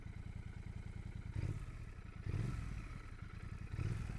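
A 2025 Royal Enfield Bear 650 motorcycle accelerating hard on a road toward 60 mph: a steady throbbing twin-cylinder engine pulse with revs climbing in stages as gears change, close and continuous, without talk.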